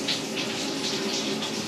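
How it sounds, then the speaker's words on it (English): A shower runs steadily in the background, a constant broadband hiss of falling water that stays even and moderately loud throughout, with no voices over it. "you guys hear the shower in the background"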